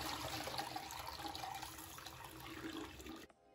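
Water poured out of a container while rinsing aquarium gravel, a continuous close splashing gush that stops abruptly near the end.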